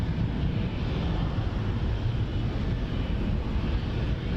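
An Air France Boeing 777-200 airliner at Montréal-Trudeau airport, a steady, broad engine roar mixed with wind noise, continuous and fairly loud without any talk.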